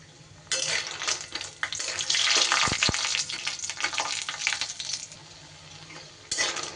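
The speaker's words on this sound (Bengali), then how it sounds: "তেল গরম হলে সবার প্রথমে আমি বড়িগুলো ভেজে নেব।" Lentil dumplings (bori) fry in hot mustard oil in a kadai, a loud steady sizzle that flares up as they drop in, broken by a few sharp metallic clinks near the middle.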